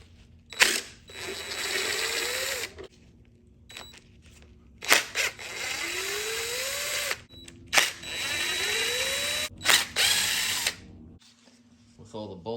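A power ratchet spins timing cover bolts out of an Oldsmobile 403 V8 engine in several loud, close bursts of whirring a few seconds each, with a rising whine, separated by pauses and clicks.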